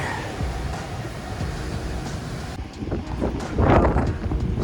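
Strong wind buffets a roadside service station, a steady broadband rush with rumbling low noise and a louder gust toward the end.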